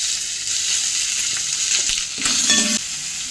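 Chopped onion hitting hot oil in a frying pan for a South Indian idiyappam dish, giving a steady, close, loud sizzle that swells briefly with a brighter crackle as it is stirred.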